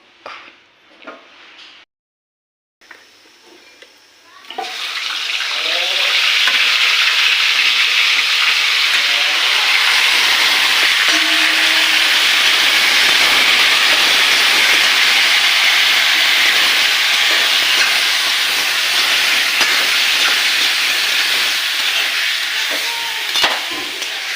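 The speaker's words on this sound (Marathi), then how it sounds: "मिक्सरला वाटून घ्यायचं मस्तपैकी बारीक" After a few quiet clicks and bumps, a loud, high-pitched whirring roar of a mixer grinder grinding spices starts and runs steadily, grinding continuously without pause.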